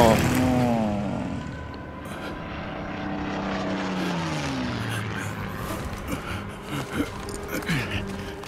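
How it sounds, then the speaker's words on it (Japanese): A helicopter flying in the Death Stranding video game gives a loud, steady rotor and engine drone whose pitch slides down and then rises again, filling the whole stretch without a break. "ヘリかよ"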